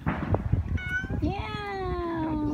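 A pet cat meowing at home: soft shuffling and rustle first, then a short meow followed by a longer, drawn-out tonal meow that falls slightly in pitch, close and clear.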